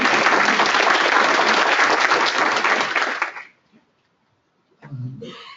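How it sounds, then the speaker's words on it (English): A conference audience at an ALS clinical trials guidelines meeting gives a full round of applause for about three seconds, then it stops abruptly; after a short silence a brief murmur of voices follows. "We should have given a round of applause to Eric"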